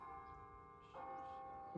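Church bells tolling in The Sims 4 game town, soft sustained ringing tones with a new strike entering midway, faint and distant under a quiet ambient backdrop, no speech.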